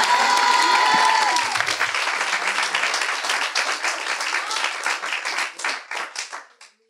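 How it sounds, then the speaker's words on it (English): A church congregation claps during a praise break in a sermon, dense hand clapping that thins into scattered claps and fades out, with a sustained musical tone at the start. "I would clap my hands right there."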